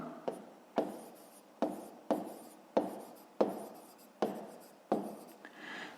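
A pen writes out a math answer on paper in a series of about eight quick, scratchy strokes, each one close and crisp, separated by short pauses, with no talking.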